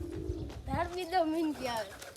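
American pigeons coo softly in a few rolling, throaty phrases, close by but quiet, with faint background noise.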